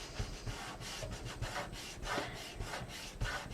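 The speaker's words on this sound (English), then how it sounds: "And then just burnish those tabs down." Paper glue tabs are burnished down by hand, producing close, soft rubbing strokes that repeat in short irregular passes, quiet and without speech.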